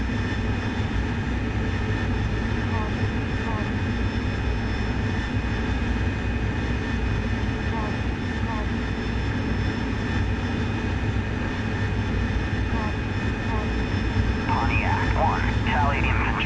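A jet aircraft coming in to land in a combat flight simulator, a steady loud engine roar and whine held throughout with faint chirps near the end.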